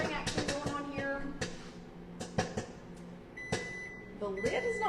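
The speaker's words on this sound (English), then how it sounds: "so we've got some good popping action going on here" Food popping inside a running microwave oven, a quick series of sharp pops spaced irregularly over the steady hum, with a person talking throughout.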